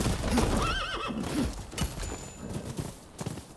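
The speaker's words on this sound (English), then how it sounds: "Can I call my horse?" In the video game Rise of the Ronin, a horse whinnies loudly up close while hooves clip-clop rapidly, the galloping continuing after the neigh fades.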